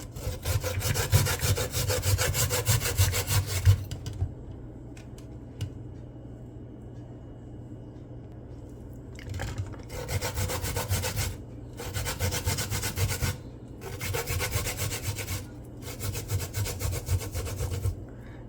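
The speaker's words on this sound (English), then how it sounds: "So this is the coconut, and our grater." A whole coconut is scraped against a hand grater in quick rhythmic bursts of harsh rasping, several separate grating runs broken by quiet pauses, close and fairly loud.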